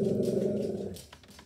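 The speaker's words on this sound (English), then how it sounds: "What is a video without a Dallas growl, right" A dog gives a low, sustained throaty growl up close for about a second, then trails off into faint shuffling.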